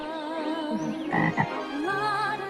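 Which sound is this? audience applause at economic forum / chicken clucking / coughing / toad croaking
toad croaking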